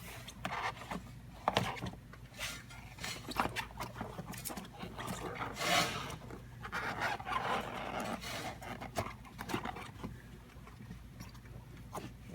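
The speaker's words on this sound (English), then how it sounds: "let's go ahead and pull up this piece of foam" Foam padding is pulled up and slid free from the engine intake area of a 2014-2019 Silverado truck, giving scattered rubbing and rasping scrapes close up with no talk.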